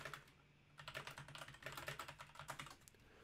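Someone types a question on a computer keyboard while adding an FAQ entry, a brisk run of close, crisp key clicks in irregular bursts after a brief quiet start, alone with no talking.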